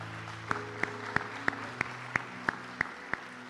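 Church congregation clapping together in a steady, even beat, about three claps per second, fairly soft and set over sustained background music tones.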